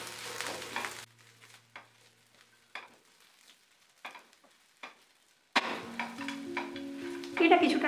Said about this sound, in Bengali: সমস্ত কিছু ভালোভাবে মিশিয়ে নেব।